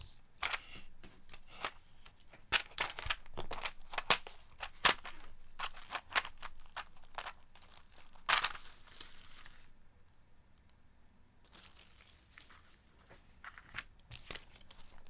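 A plastic bag crinkles and tears as it is handled and opened close up, with bursts of crackling rustle coming in irregular clusters and a few quieter pauses between.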